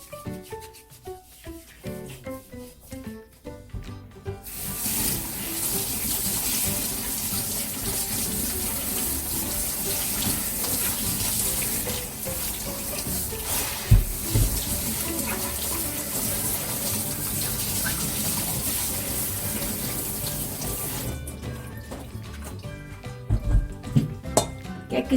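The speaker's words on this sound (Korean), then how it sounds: "이렇게 비벼서 흐르는 물에 씻어주면 돼요." Pomegranates are rubbed and washed by hand under a running kitchen tap, a steady hiss of flowing water for most of the stretch with soft rubbing and a few knocks against the sink, the tap then shut off.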